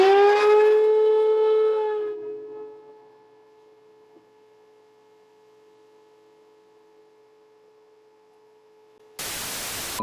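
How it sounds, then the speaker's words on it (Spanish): A whining motor winds down into a low steady hum, then a vacuum cleaner's loud rushing roar switches on abruptly at the very end, in a woodworking workshop. "Y la aspiradora."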